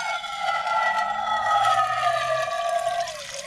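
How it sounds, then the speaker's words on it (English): A pot being filled with water one-handed on a riverside path near Falkirk gives a steady, close, ringing gush whose tone slowly shifts as the water rises, with no voices. "trying to fill the pot with water one-handed was more difficult than I"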